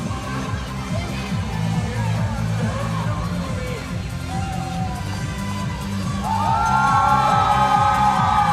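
Wrestling crowd at a 3XWrestling TV event cheering and whooping for a dancing wrestler, a loud, sustained roar of voices and yells that swells toward the end while a commentator talks.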